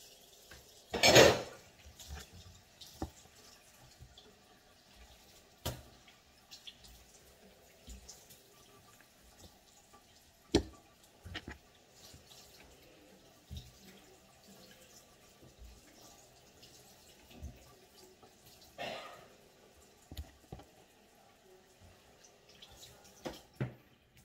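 Milkfish (bangus) being rinsed under water in a kitchen sink before being made into daing. Faint trickling water runs throughout, broken by scattered clanks of a pan and utensils.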